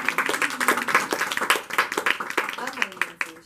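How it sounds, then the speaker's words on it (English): A workshop audience gives a round of applause for a participant, a loose, uneven patter of individual claps from a small group, fairly close and ragged in rhythm, fading toward the end. "Let's give Nancy a round of applause."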